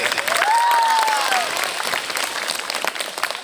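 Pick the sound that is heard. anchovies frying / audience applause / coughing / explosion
audience applause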